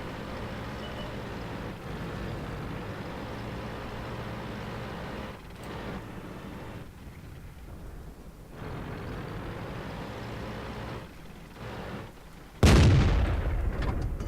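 A single heavy tank cannon blast from World of Tanks lands near the end, sharp and loud over a steady rumbling engine drone that rises and falls beforehand.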